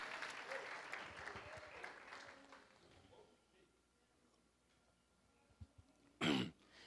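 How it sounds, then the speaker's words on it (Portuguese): Church congregation applauding, a broad wash of clapping that tapers off over a few seconds, followed by quiet room noise, a throat clear and a sharp cough near the end. "Aplauda o Senhor, aplauda o Senhor."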